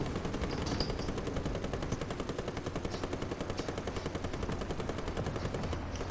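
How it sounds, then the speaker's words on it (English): Steady, rapid machine gun fire from a tank in War Thunder, an unbroken, evenly spaced rattle running loud and close throughout with no pauses. "That's your machine guns."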